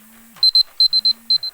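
Bursts of high electronic alarm beeping in pairs and short runs, loud and close, in a mountain teahouse in Nepal, with a low hum fading in and out underneath.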